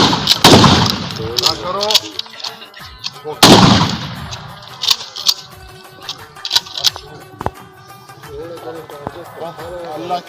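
Gunfire at a firing practice: two loud, close shots with a rushing tail, followed by sharp cracks and clicks as someone talks over the scene.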